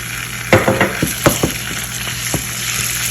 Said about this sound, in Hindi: अब मैं इसमें 1 चम्मच जो है अदरक लहसुन का पेस्ट डालने जा रही हूँ